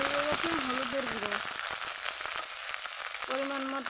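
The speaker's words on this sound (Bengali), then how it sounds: "মশলাটা ভাজা ভাজা হয়ে গেছে" Ground spice paste frying in an oil-filled pan with a steady close sizzle and crackle throughout, while a voice talks over the start and end of it.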